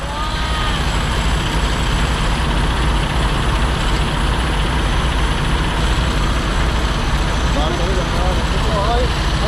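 A truck engine running again after a DIY repair to its solenoid, a steady, low idling rumble that continues without a break, with people talking nearby over it.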